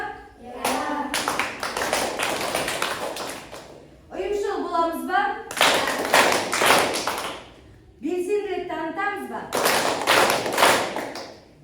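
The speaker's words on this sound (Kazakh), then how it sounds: "Үш шапалақ әдісін білеміз ғой, я?" A classroom group claps in unison in short rhythmic bursts, with a teacher's voice speaking between the rounds of clapping.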